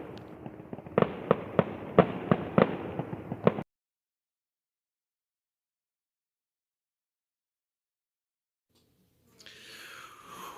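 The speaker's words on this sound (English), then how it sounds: "watching the evening fireworks" Evening fireworks crackle and pop in a quick volley of sharp bursts for a few seconds, heard from aboard a boat, then silence, then a faint wash of distant noise.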